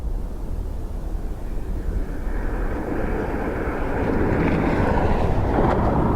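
An airliner lands in strong wind at Dublin Airport, its engine roar rising from a distant rumble to a louder rushing whine, with gusty wind buffeting the microphone throughout.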